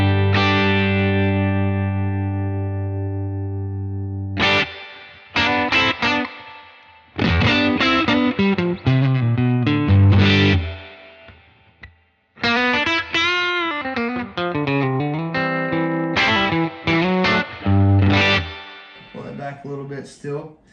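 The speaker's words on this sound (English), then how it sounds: "a lot of reverb and a lot of drive, and not a lot of output" Electric guitar played through a Universal Audio Dream 65 reverb pedal with heavy reverb and drive, a sustained chord ringing out, then strummed and picked phrases with long washy tails and brief gaps.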